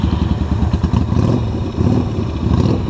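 Motorcycle engine running after a jump start, a loud, close, rough throbbing roar with uneven pulsing revs, no talking.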